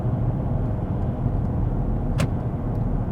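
A Range Rover stuck in second gear drones with a steady, loud low-pitched engine and road rumble from inside the cabin, with one brief higher squeak partway through.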